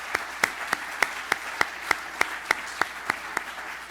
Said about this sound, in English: everyone deserves a big round of applause for that.